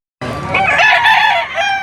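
A rooster crows loudly and close by at a chicken market in Padre Garcia, Batangas, one long strained crow that starts abruptly and holds to the end.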